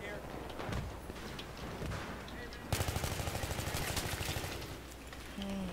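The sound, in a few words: shotgun fire from the video game Battlefield 3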